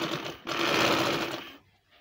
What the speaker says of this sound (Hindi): जो नीचे वाला ये एक्स्ट्रा कपड़ा है इसके ऊपर ऊपर सिलाई लगानी है।